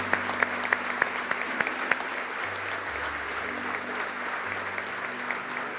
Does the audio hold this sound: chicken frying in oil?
no